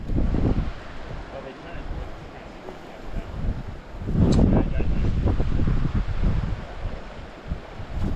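Gusty wind buffets the microphone beside a Colorado river during streamer fly fishing for brown trout, rising and falling in loud rumbling surges with a soft watery hiss beneath.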